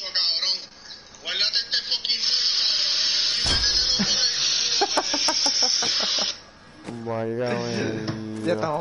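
Chickens cluck in Diablo 3 amid busy combat noise, with repeated short clucks and squawks rising and falling over a loud hissing wash; a voice speaks at times.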